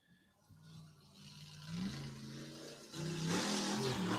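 A UTV attacking a rock face at full throttle at the All Thingz UTV Clash at Crossbar, its engine revving hard and climbing in pitch in stepped surges, growing louder toward the end with rough mechanical whir.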